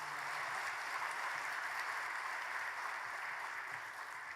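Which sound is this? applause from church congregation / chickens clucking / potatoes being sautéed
applause from church congregation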